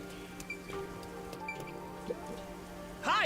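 Steady rainfall in the video game Master Detective Archives: Rain Code, a constant soft patter with faint ambient tones, ending in a brief louder bright chime.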